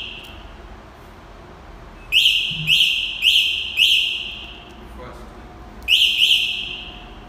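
White Carbon O3 smart remote vehicle alarm sounding in loud, repeated whistle-like bursts, a sustained tone then four sharp rising chirps, a pause and another burst, close by with no talk.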